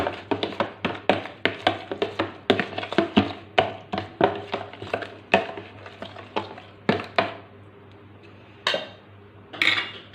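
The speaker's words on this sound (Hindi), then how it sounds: "2 to 3 spoon yogurt without any flavour, plane yogurt. We will mix it properly first." A spoon stirs ginger garlic paste into plain yogurt in a bowl, giving a steady run of close clinks and scrapes that slow and thin out toward the end.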